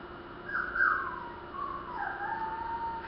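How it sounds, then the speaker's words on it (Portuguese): A dog cries with a long wavering whimpering howl that rises, dips and slides, moderately close and alone. "Choro de cachorro."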